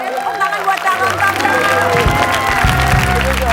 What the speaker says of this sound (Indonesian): Tepuk tangan buat calontong